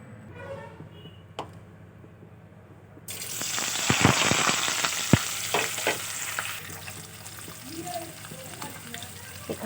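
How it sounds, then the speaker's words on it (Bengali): Paneer pieces drop into hot oil in a home kitchen for a potol-alu curry, setting off a sudden loud, crackling sizzle with sharp pops and spatters that gradually settles into a steady fry, close to the pan. "দেখি ওদিকে তেলটা গরম হয়ে গেছে এখন পনিরগুলো ভেজে নেবো"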